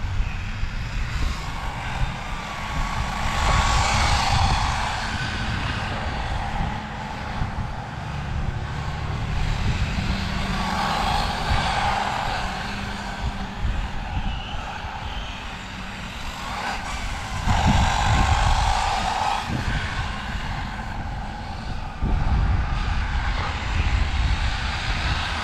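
A Reely Raptor radio-controlled model airplane's electric motor runs outdoors with the throttle held, a steady whining drone that swells and eases as it passes, with wind rumble underneath.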